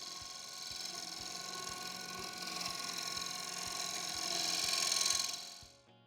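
A wood lathe scraper takes fine finishing cuts as it sweeps across a turned bowl toward the centre, giving a steady, moderately loud whirring hiss with a regular faint ticking pulse that swells near the end and then fades.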